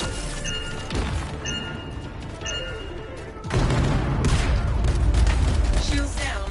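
An explosion detonates at a foundry in the video game Anthem, a loud crashing boom with debris that swells sharply midway and holds a dense rumbling roar, following earlier scattered impacts.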